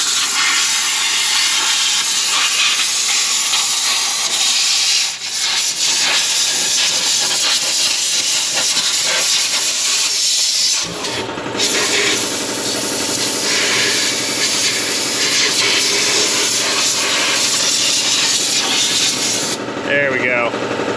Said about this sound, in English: Loud compressor noises.